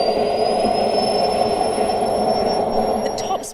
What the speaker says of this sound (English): So when it starts up, it sounds exactly like a Boeing starting up.